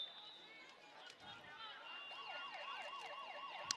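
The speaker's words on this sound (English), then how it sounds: "And the siren goes, ending the quarter." At a football game a siren ends the quarter, a wailing, rising-and-falling tone carried across the field, moderately loud over crowd ambience.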